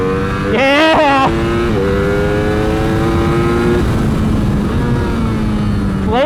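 A Ducati Streetfighter V4S motorcycle on a race track revs hard through rising gear pulls as the rider lifts into a wheelie, its loud close engine droning and shifting steadily throughout.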